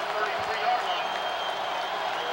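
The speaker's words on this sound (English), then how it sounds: "Mountaineer crowd picks up now" A West Virginia Mountaineers home football crowd in a packed stadium roars steadily as Virginia Tech faces a third down, a dense continuous wall of cheering with scattered claps and no clear talk.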